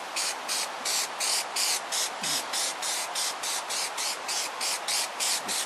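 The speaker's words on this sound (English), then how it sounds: "Light coat of contact cement." A light coat of contact cement is sprayed onto foam for a puppet head in steady, rhythmic bursts of close hissing, about a dozen short pulses with brief gaps between them.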